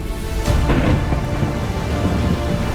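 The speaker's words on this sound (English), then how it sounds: "It was about to rain." Rain and rolling thunder in a simulated forest, a steady loud downpour with a deep rumble swelling near the start and continuing throughout, with no voices.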